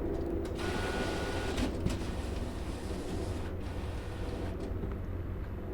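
A printer mechanism in a video game library whirs and rattles steadily, with a few faint clicks and creaks under a continuous mechanical drone.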